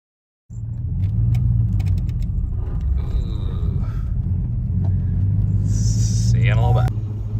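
A Chevy 1500 pickup running in front wheel drive mode while towing another truck down the road gives a steady, loud low engine rumble with a continuous drone that holds throughout, with faint clinks above it.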